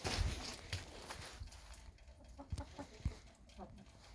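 Hens cluck softly in short scattered bursts, fairly close, with faint shuffling sounds in between, as they are herded in to roost on a snowy late-November evening.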